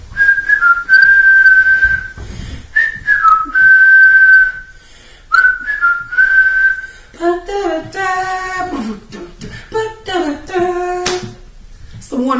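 Someone whistles the John Cena wrestling entrance theme, loud and close, in phrases of sustained and bending notes with short gaps, faint background noise between.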